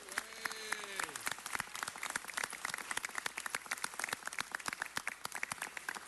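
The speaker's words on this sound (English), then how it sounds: "Could we please give our congressperson, Tony Cardenas, a round of applause?" A room at a city council meeting breaks into applause for a congressperson, sharp distinct claps building after a voice tails off, moderately distant and steady for several seconds.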